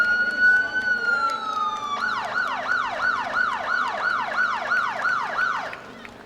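A fire truck siren at a July 4th town parade starts with a steady wail, then shifts into a fast repeating yelp, loud and close, while spectators talk in the background.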